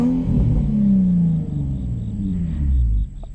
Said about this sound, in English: let me give you guys a rev